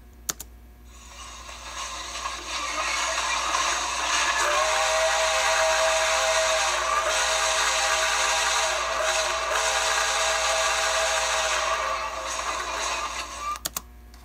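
An original American Flyer electronic whistle, run on DC power through its field-coil speaker, imitates a live steam whistle with a sustained, breathy hooting tone over hiss. It runs for several seconds, starting and ending with sharp clicks.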